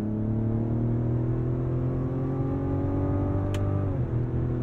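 A Mazda CX-90 Turbo S engine driven in manual mode with steering-wheel paddle shifts drones steadily from inside the cabin, then its pitch drops sharply at a quick gear change near the end.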